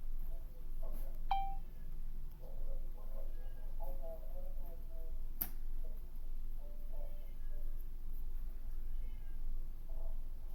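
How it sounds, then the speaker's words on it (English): A cat meows faintly in the background several times, with short, thin cries scattered over a steady low room hum and a sharp click partway through. "My cat's in the background, Bresky."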